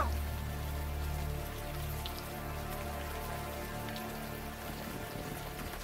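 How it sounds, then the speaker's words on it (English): Warm rain pours steadily in the adventure game Unavowed, a dense continuous hiss of drops over a low ambient hum, with no voices. "the warm rain is coming down"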